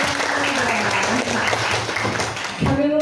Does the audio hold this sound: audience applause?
yes